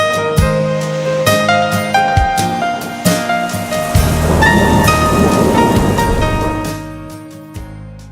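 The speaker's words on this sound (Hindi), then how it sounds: "यहां रात से ही रुक रुक कर बारिश हो रही है।" Monsoon rain pours steadily in Jamui, Bihar, a loud, dense wash of rainfall with a deep thunder rumble swelling through the middle and fading toward the end, with no talking.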